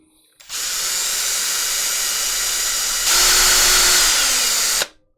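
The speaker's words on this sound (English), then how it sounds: "That's hole 2 drilled." A power drill bores a hole through a Sega Dreamcast console case, one steady high-pitched whine that rises in loudness and pitch partway through before stopping abruptly, close and loud.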